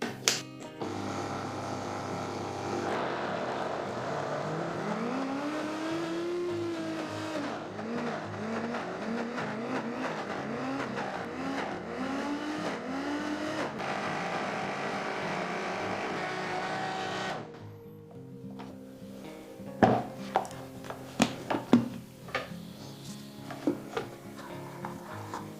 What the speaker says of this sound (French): Ou on le passe au mixeur.